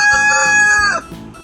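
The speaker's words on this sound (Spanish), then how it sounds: "ahora vamos a escuchar cómo hace el gallo" A rooster crows once, loud and close, in a brassy drawn-out call that cuts off after about a second, followed by a brief soft sound.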